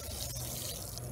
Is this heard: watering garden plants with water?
yes